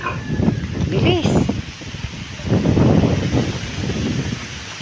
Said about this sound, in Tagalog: Mabilis ang hangin.